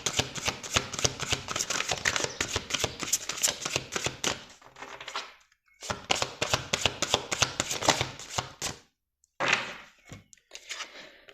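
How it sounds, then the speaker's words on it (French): A small deck of angel oracle cards is shuffled by hand. Close, crisp riffling and flapping comes in bursts, with brief pauses and a few soft taps between rounds. "on ira prendre 3 petites cartes de l'oracle, du petit oracle des anges"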